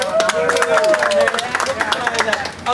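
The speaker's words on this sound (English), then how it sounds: "So everybody give Maggie a big round of applause for being our babysitter" A small tour group on a Key West ghost hunt claps for Maggie, the babysitter, a brief scattered round of hand claps mixed with crowd chatter and a voice talking over it.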